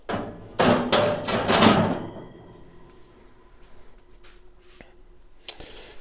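Metal grates go into a Z Grills 700D4E pellet grill as a burst of loud clanks and scrapes, followed by a few fainter knocks and a sharp clink.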